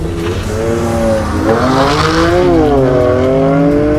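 A high-revving BMW M6 engine accelerates hard and close on a race track, its pitch climbing and wavering through the gears, loud and continuous with a faint tire squeal.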